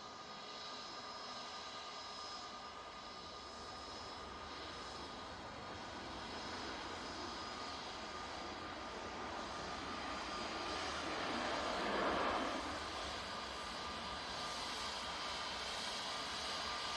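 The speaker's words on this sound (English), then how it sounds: "Next in will be the Ryanair from Girona now, using 737-800 with split scimitars." A Ryanair Boeing 737-800 with split scimitar winglets arriving from Girona rumbles as a distant jet roar, slowly swelling in loudness with a faint whine, peaking briefly near the end before easing slightly.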